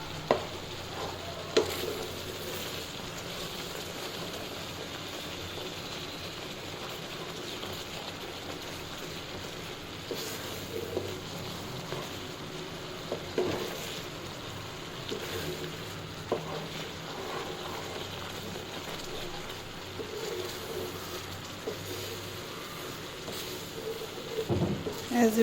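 Homemade strawberry jam bubbles and simmers in a pan, giving a steady soft sizzle with occasional stirring scrapes, close and moderately quiet throughout.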